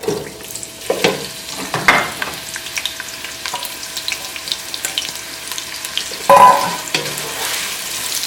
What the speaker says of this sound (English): And we're going to fry this onion.